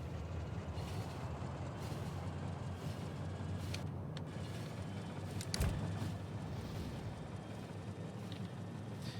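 A train runs along rails in the video game Factorio, a steady rolling rumble with faint wheel clatter and a brief louder knock partway through, continuous and fairly quiet.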